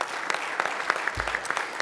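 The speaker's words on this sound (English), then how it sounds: "Give Rob a round of applause." Applause at a union regional council meeting in British Columbia, a short burst of scattered clapping from the audience, moderately loud with no talk over it.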